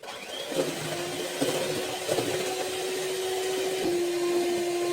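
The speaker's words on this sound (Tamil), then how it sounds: "நல்ல ஹை ஸ்பீடில் வச்சு நல்லா ஃப்ளஃபியாக நல்லா க்ரீமியாக வர வரைக்கும் நம்ம நல்லா பீட் பண்ணிக்கலாம்." An electric mixer beats cake batter at high speed, giving a steady motor whine with a sustained hum, close and continuous with slight pitch shifts.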